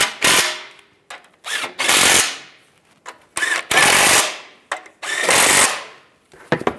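Power tool tightening a driver's side differential bracket bolt on a 2007-2013 Chevrolet Silverado, with loud repeated bursts of impact-style rattling, each lasting under a second, separated by short pauses.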